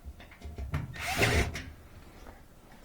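Power drill driving Torx 15 screws into the bottom of a Whirlpool front-loading washer, one short soft whir that rises and stops, fairly faint and close with little else around it.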